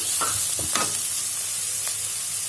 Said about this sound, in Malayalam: നന്നായിട്ടൊന്ന് വഴറ്റിയെടുക്കുക